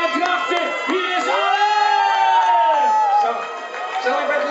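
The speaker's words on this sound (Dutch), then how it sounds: "Maar applaus voor die spontane zanger uit Drachten." A crowd at a Westland performance cheers and whoops for a singer from Drachten, with loud voices and shouts layered over one another and steady crowd noise throughout.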